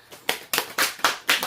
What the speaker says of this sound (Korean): 엄마들 박수.